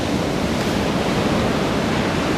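Ocean waves break far offshore at Anglet beach at high tide, a loud, steady broadband roar of surf with no voices.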